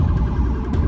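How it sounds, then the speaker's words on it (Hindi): A police truck siren wails loud and close as it pushes into a crowd of protesters at a street demonstration in America, its warbling tone steady under a dense wash of noise. "पुलिस का एक और ट्रक सायरन बजाता हुआ भीड़ में घुसता नजर आया"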